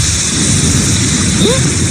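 Heavy rain pours in a loud, steady, dense hiss with a low rumble underneath and a brief rising whistle partway through.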